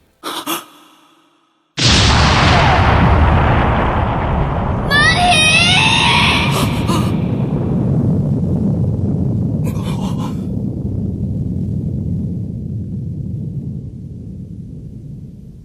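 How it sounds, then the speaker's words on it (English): A spaceship blows up in the Sonic X cartoon, a loud sudden blast that roars and slowly decays over many seconds, with a brief high shout of horror cutting through early and a faint sound before the explosion. "the explosion of Molly's ship and Rouge's shout of horror reverberating into your eardrums"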